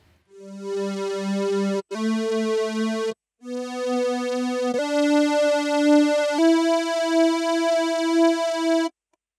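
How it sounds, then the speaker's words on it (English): A C4 four-voice synthesizer pedal plays sustained, buzzy tones in a few steady notes, each held for a couple of seconds with brief gaps, loud with no voices. "Yes, the synthesizer, four voices, a lot of options for distortions and filters."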